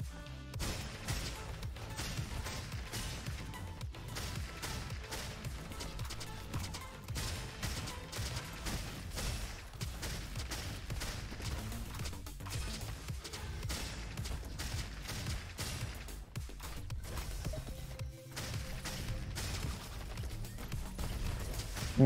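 Rapid, dense firing from the mine gun in the RoboQuest video game keeps up a continuous crackle of shots and impacts over a game soundtrack for the full stretch.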